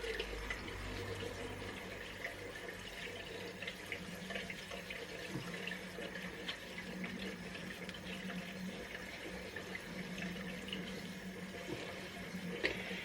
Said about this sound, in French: Maintenant, faut rincer.